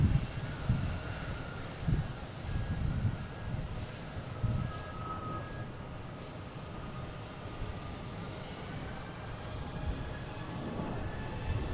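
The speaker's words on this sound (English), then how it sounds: "The one that just landed from Chicago Midway, flight 1280." A Southwest airliner arriving from Chicago Midway lands at Boston Logan, heard as a distant, low rumbling roar of engines that swells early and then settles into a steady drone over airport ambience.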